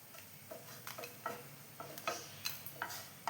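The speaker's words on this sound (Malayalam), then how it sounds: "ഉലുവ പൊട്ടുന്നുണ്ട്, ജീരകവും" Fenugreek and cumin seeds crackle as they roast in a pan for idli and dosa podi. Faint, irregular pops and ticks sound close by, with soft stirring in between.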